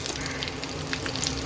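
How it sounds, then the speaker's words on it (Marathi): One spoonful of black masala spice dropped into hot oil for a chicken bhaji, crackling and sizzling steadily at close range with bright spitting pops throughout. "तेल गरम झालं आहे. त्यात आपण 1 चम्मच असा काळा मसाला टाकून घेऊ."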